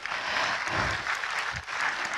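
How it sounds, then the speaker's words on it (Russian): A lecture audience breaks into applause, a brisk, dense patter of clapping that carries on for a couple of seconds. A few low vocal murmurs mix in beneath the clapping. "Супер! Аплодисменты!"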